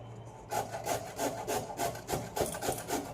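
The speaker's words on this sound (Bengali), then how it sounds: "দিয়ে এই গেটারটা দিয়ে গ্রেট করব" A hand grater scraping food in a home kitchen, with a rhythmic series of short rasping strokes repeating about twice a second after a quiet start, close by and without speech.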